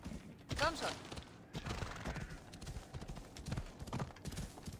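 Horse hooves clip-clopping in the video game Assassin's Creed Odyssey, a quick rhythmic trot of clattering hoofbeats close by, with a brief snort or whinny near the start and someone talking over it.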